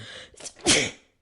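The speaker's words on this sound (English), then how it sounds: "you're beautiful even when you're sneezing up a storm and blowing your nose" A single sharp sneeze, preceded by a short breathy intake, close and fairly loud, with no talking.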